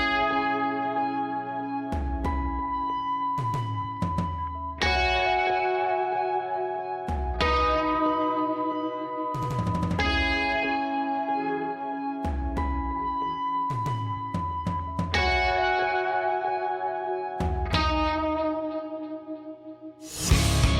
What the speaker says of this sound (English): There's some guitar cleans I haven't heard yet.